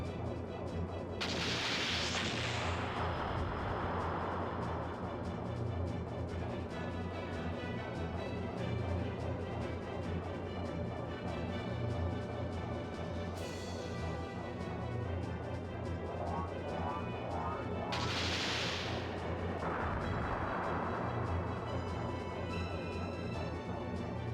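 Ship cannon fire in the Skies of Arcadia: Legends video game booms twice, far apart, each a sharp crash with a decaying roar, over a steady bed of game music.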